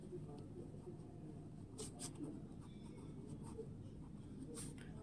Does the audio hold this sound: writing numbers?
yes